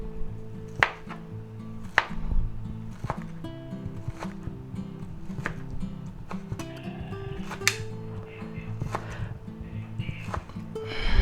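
Knife chopping through ham on a cutting board for a spicy ham and cheese omelet, with several sharp, irregular cuts standing out over a busy low kitchen background and background music.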